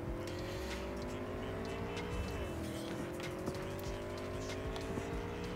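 Cars race through night streets in the video game Cyberpunk 2077, with faint engine tones rising and dipping, tires squealing and scattered clicks over a busy, low-level mix.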